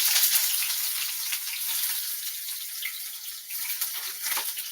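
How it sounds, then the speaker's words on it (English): Saltfish fries in oil with a steady, close, hissing sizzle that holds evenly throughout, with small crackling pops. "So I'm gonna start by frying up my saltfish,"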